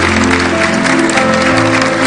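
A studio audience at a Catholic spiritual-direction programme gives its guests a dense, loud, continuous round of applause with a steady hum underneath.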